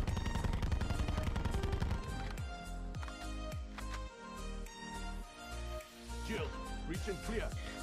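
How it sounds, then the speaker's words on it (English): A GKS submachine gun fires in Black Ops 4, opening with a rapid automatic burst and followed by bursts and single shots with bullet ricochet sounds, heard under steady narration. "GKS has a simple recoil pattern. It will kick up and it's fairly controllable."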